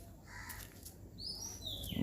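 Birds calling outdoors, a few high chirps and drawn-out whistled notes over a faint low background hum, fairly quiet and spaced apart.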